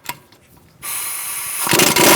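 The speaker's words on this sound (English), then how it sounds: "Using a 17mm socket, I'm going to take out these 2 bolts for the bracket." A power tool, probably an impact wrench, whirs loudly and continuously while removing the 17mm brake caliper bracket bolts on a 2014-2019 Kia Soul, starting after a faint clunk and building in intensity close to the listener.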